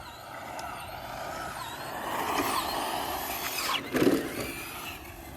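A Traxxas Slash RC truck on Traxxas modified tires runs across pavement, its electric motor whining and sweeping up and down in pitch, with a louder scuffing burst near the end.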